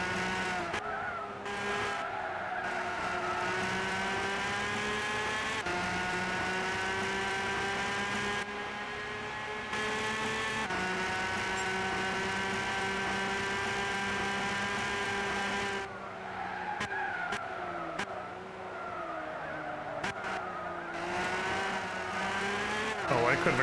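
Race car engine in Gran Turismo 6 droning at high revs almost without pause, pitch rising and dipping through gear changes and turns, with brief tire squeals and a voice talking over it.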